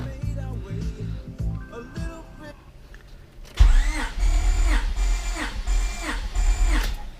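A Honda J-series engine cranks over with the accelerator pedal floored, starting after a quieter stretch with a loud, rhythmic whirring starter cycle repeating evenly in close range, with no voices.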